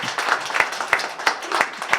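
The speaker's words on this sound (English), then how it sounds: "give her a round of applause for that" Audience applauding an author at the opening of CleverLink's Clever Centre in Corrimal, a modest burst of clapping with distinct sharp claps recurring in a loose rhythm over a couple of seconds.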